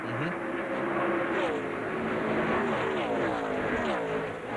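A NASCAR race car led by Jeff Gordon passes during the 2003 Bass Pro Shops MBNA 500, a steady engine roar with rising and falling pitch sweeps, moderately distant under crowd and track noise.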